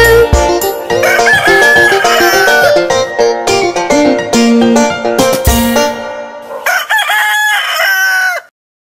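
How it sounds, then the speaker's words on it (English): A rooster crows cock-a-doodle-doo, loud and close, over a busy musical backing from a children's song. A second long, rising and falling crow comes near the end before the sound cuts off abruptly. "Sing cock-a-doodle-doo."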